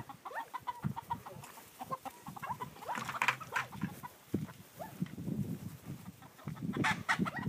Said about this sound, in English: She's trying to coax the chickens into the cage